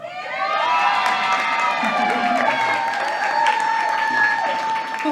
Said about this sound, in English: brought her own cheering section here, I see